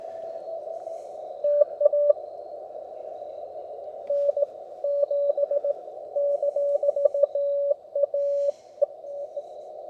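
A portable ham radio receiving on a busy frequency gives a steady tonal hum broken by rapid on-off beeping bursts, like Morse-style keying, fairly quiet and continuous with no talk.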